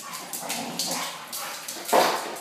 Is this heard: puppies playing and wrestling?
yes